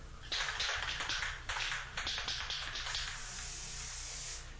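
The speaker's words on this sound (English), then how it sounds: "we're going to attach that onto the wall with some of this invisible spray adhesive" Invisible spray adhesive hisses from a can in several short pulses, then one long continuous spray, close and fairly loud, applied to a wall.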